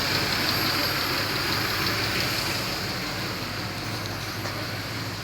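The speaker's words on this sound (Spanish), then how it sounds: "Se puede escuchar y el vehículo está prácticamente en fallo, está temblando." A 1996 Toyota Camry engine misfiring at idle because of a vacuum leak, with a continuous, fairly loud engine rumble and hiss that runs steadily without pause.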